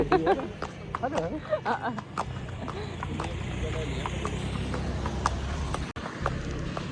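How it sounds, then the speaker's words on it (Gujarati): A horse's hooves clip-clop in a quick, steady rhythm throughout, close by, with a murmur of voices and background bustle underneath. "ઘોડો જઈ રહ્યો તબડાકા તબડાકા તબડાકા"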